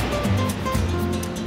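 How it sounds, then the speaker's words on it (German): Atlantic waves lapping on the coast of Tenerife near Güímar, a continuous close wash of surf with steady loud rushing noise. "Klatschen der Wellen."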